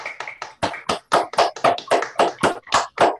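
Applause from online meeting participants with open microphones, a series of sharp, distinct claps in a quick uneven rhythm, close and loud, without talk.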